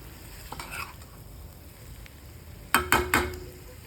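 Vegetables sizzle softly in a pan, then three quick, loud scraping stirs of a spoon sound near the end.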